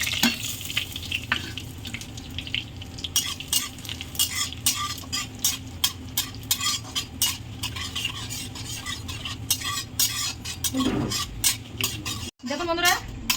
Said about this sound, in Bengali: লঙ্কাগুলো আমার লাল লাল করে ভাজা হয়ে গেছে জিরেটাও খুব সুন্দর করে ফুটে গেছে